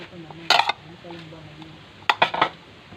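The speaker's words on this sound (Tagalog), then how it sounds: "haluin natin halo halo lang yun o oh" A metal utensil clanks against a pot while banana and cassava are stirred, in two short bursts of scraping knocks over a low steady hum.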